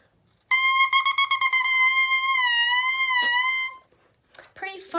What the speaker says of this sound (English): So an oboe reed without the oboe in it sounds like this.